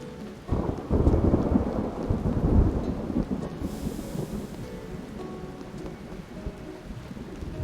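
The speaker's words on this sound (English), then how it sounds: "Like, the thunder's spot on." A thunderstorm in the cozy video game Spirittea: steady rain pattering over low rolling thunder, with a heavy rumble building early and lingering beneath the downpour, no voices.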